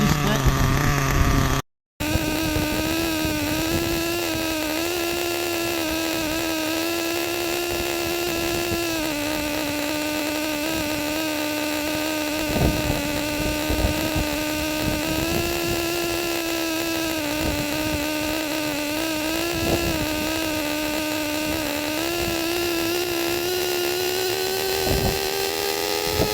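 A nitro RC car engine idles steadily on its carburettor setting, a continuous buzzy drone with a sustained high whine holding almost the same pitch throughout, near and loud, with one brief dropout early on and no talking.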